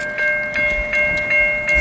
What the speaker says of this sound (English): Got a train coming.